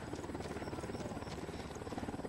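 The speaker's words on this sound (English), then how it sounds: "We got a chopper coming in." A helicopter in the Ghost Recon Wildlands video game approaches with a steady, dense rotor thrum and engine drone that fills the whole moment at a constant loud level.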